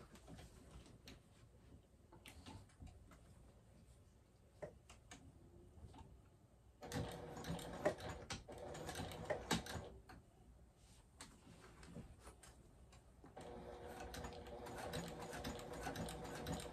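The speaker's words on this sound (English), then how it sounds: "I am gonna go ahead and top stitch from the top side of it so that I can see what I'm doing" Sewing machine top stitching a fabric tote bag from the top side, running in bursts of steady rapid stitching with pauses between, close and fairly quiet, no talk.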